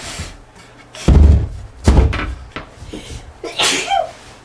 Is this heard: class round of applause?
no